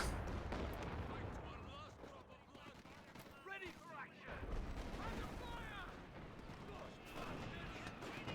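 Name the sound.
artillery creeping barrage in a video game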